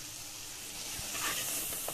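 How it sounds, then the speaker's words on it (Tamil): Tomatoes sautéing in a pan for palak paneer gravy give a soft, continuous sizzle and hiss, quiet and steady with no voices. "இப்போ தக்காளி வதங்கிட்டு இருக்கட்டும்"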